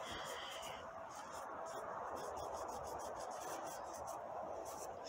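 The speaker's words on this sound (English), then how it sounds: "So I just wipe the top surface. With this rag." A rag rubs and wipes the top surface of a Toyota MR2 SW20 axle during reassembly, giving a steady close scratchy rasp that runs continuously with no pauses.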